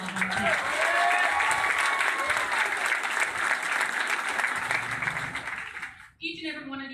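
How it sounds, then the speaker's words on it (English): A crowd at a Jo Jorgensen 2020 Libertarian campaign event in Oklahoma City gives a full round of applause for a speaker, loud and continuous with some cheering mixed in, then dies down as a voice starts talking. "One more round of applause for Mr."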